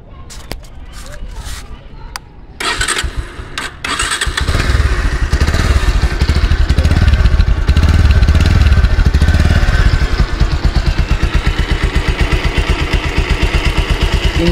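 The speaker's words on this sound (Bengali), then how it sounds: "এবার আমি বাইকটি সাউন্ড শোনাবো আপনাদেরকে।" A Bajaj Pulsar double disc motorcycle, a 2021 model in fresh condition, starts with a few thumps and clicks and then settles into a loud, steady, close-up idle with an even rapid pulse.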